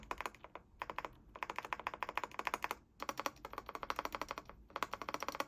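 Rapid, steady typing on the stabilized keys of an Epomaker Dynatab 75 mechanical keyboard with Black Wisteria switches, deep, slightly rattly keystrokes, close up, in continuous bursts with a few brief pauses and no talking.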